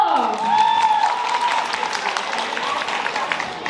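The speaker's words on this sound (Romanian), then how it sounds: "Aplauze pentru Paulo" Audience applause at a high school freshman ball talent contest in Hârlău, Romania swells and continues steadily, a dense patter of many hands clapping, with a brief voice tone at the start fading under the clapping.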